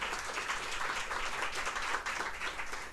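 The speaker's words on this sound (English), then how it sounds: "We can give a round of applause for that." An audience gives a dense, steady round of clapping at a panel discussion, continuous and even throughout with no voices over it.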